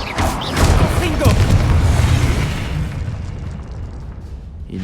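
A Confringo spell explodes in a Harry Potter video game, a loud close boom with crackling burst that rolls on and fades over a few seconds, while a voice shouts spell names over it.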